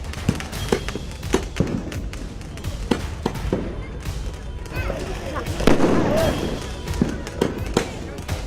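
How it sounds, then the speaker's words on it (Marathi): Diwali fireworks and firecrackers bursting across Mumbai, a steady run of sharp cracks and pops at varying distances with a louder cluster of bangs midway, set over a busy background murmur. "मुंबईत दिवाळीत फटाक्यांची आतषबाजी सुरू आहे."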